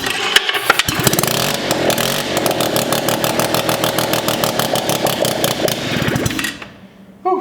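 A rotary engine swapped into an ATV cranks and fires on starter fluid, running as a loud, rapid buzzing roar with a steady pulse for about six seconds before cutting out abruptly.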